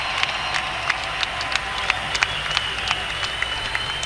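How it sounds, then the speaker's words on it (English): Arena crowd applauding Dwyane Wade at an NBA game, a steady wash of clapping and crowd noise with sharp intermittent claps or squeaks standing out. "Nice round of applause for Dwyane Wade."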